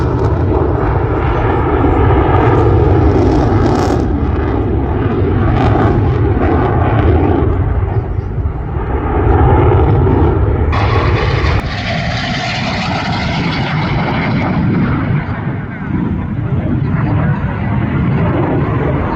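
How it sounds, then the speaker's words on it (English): F-16 fighter jet flying a display at the Royal International Air Tattoo airshow, a loud continuous roaring jet engine rumble that swells and shifts in pitch as it passes overhead. "let's get the F-16 back on."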